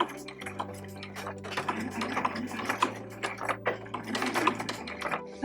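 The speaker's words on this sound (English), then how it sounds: "we've sewn the fabric to the batting" Sewing machine stitching fabric onto quilt batting for a Christmas ornament, giving a close, busy mechanical clatter of rapid needle strokes throughout, with no talk.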